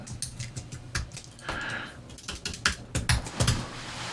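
Fingers tapping a computer keyboard at close range in an irregular rhythm of clicks and short flurries, with no voice over it.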